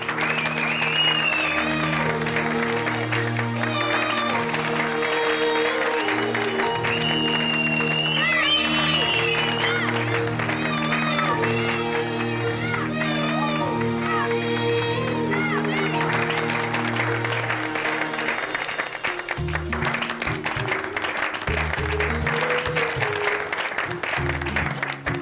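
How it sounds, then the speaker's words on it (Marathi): Audience applause on a Marathi TV show set, steady and sustained clapping from a studio crowd, heard under a musical background throughout. "त्यांच्या या स्पिरिटसाठी एकदा जोरदार टाळ्या झाल्याच पाहिजे"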